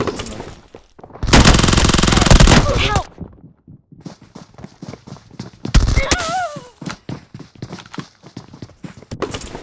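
Bursts of rapid machine gun fire in the video game PUBG, with two long loud sustained volleys separated by scattered single shots. Excited voices shout over the shooting.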